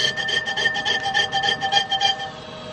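A lathe cutting an outside chamfer with an ISCAR carbide insert, taking fine passes of .25 thou, gives a close, loud, rhythmic scraping that pulses back and forth at about four strokes per second with a steady whine.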